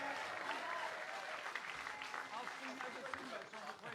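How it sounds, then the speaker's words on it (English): At a showcase contest, an audience gives performer Chop Volpe a round of applause. The clapping is steady and fairly faint, a little distant, and carries a few shouts and some crowd noise through the whole stretch. "Give him a nice round of applause"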